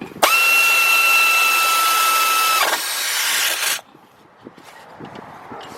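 A power tool drives a bolt on the front brakes of a 2004 Mazda MPV, a loud, high-pitched whine lasting several seconds, stepping down in pitch before it stops, followed by faint clinks.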